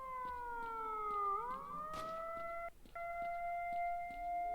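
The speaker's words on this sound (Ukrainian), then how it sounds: "Я б ж ту сирену виключив, бо вона мене нервує." Wailing siren in the video game S.T.A.L.K.E.R.: Shadow of Chernobyl, a steady rising and falling electronic tone that cuts out briefly and resumes, loud and continuous with no talk.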